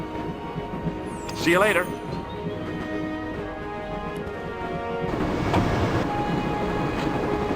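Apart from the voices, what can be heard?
train running in video game Broken Sword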